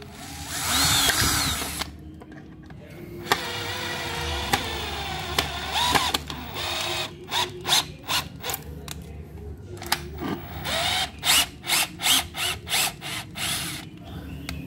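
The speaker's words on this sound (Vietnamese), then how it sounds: "Chọn cấp trượt phù hợp rồi anh em chuẩn bị bắt vít." A Bosch three-function drill drives screws in short repeated bursts, its motor whirring on and off in a quick stop-start rhythm, loud and close with no talk over it.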